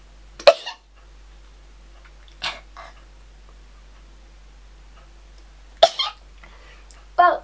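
A person sneezes during a makeup routine with a fluffy brush: a few sharp, abrupt bursts of breath spaced several seconds apart, with near silence and a low hum between them.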